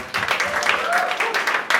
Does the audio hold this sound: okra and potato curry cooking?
no